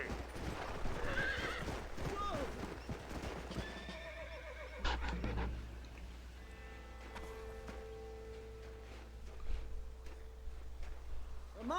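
Horses whinny several times amid clip-clopping hooves, with a low rumble and scattered game-like sound effects in the background.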